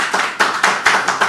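Church congregation clapping at a missionary commissioning service, a close, dense burst of hands beating in a quick, even rhythm.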